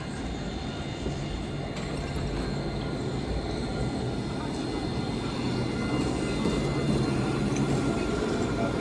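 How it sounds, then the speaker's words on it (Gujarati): A tram runs along a street in Nottingham city, giving a steady, loud low rumble with broadband rolling noise that swells slightly toward the end, continuous throughout. "પાછી જો ટ્રેન આવે છે"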